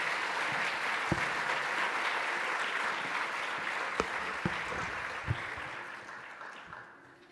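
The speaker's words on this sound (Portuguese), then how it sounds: "podemos encorajar com uma salva de palmas" Audience giving a round of applause at a Portuguese-language day celebration, a broad continuous crowd clapping with a few sharper individual claps, slowly fading out at the end.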